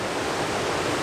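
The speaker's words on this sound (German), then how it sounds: "Was ein spektakulärer Wasserfall hier." Athabasca Falls in Jasper National Park pours on a rainy day, a dense, steady broadband roar of falling water filling the short moment with no voices.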